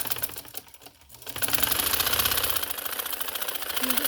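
Sewing machine stitching shalwar fabric, a steady rapid mechanical whir of the needle at close range that starts after a brief pause and runs continuously to the end.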